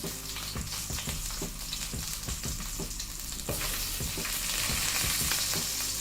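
Green onion sizzles loudly in a hot pan with a dense, crackling frying hiss. The spatters grow stronger in the second half, with no voices.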